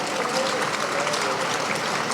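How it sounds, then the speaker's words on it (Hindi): A crowd at an outdoor ceremony in Barabanki claps loudly for honoured farmers, a dense continuous burst of applause with faint crowd murmur beneath. "आप सभी लाभार्थियों के लिए और हमारे सम्मानित कृषकों के लिए जोरदार तालियां बजाएं"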